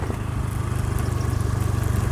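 A moving vehicle's engine drones with a close, steady low hum and a slight regular pulsing, heard alone with no talk.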